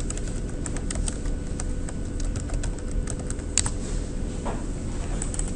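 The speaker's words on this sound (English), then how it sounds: "in cell I12, let's type in total distance" Computer keyboard being typed on while entering text into a spreadsheet cell, light scattered key clicks over a steady background hiss, close but faint.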